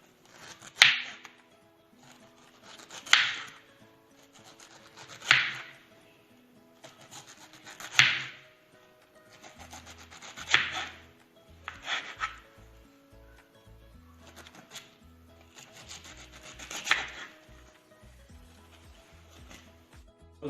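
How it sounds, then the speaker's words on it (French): A knife saws through a whole pineapple, cutting it into rounds in a series of roughly eight rasping, swishing strokes spaced a couple of seconds apart, close and clear, with faint soft knocks between the cuts. "je vais découper mon ananas sur des rondelles, de cette manière"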